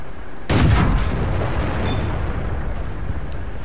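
A single tank cannon shot in World of Tanks, a sharp loud boom whose heavy rumble rolls on and fades slowly over the next few seconds.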